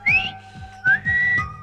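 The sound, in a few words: whistling through the gap of a pulled tooth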